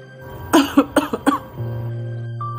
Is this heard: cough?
yes